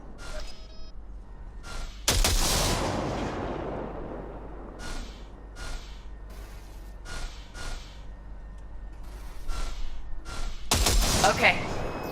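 Gunfire in Cyberpunk 2077, a loud burst of shots followed by sharp single cracks at irregular intervals and another heavy blast near the end, all close and punchy over a low steady hum.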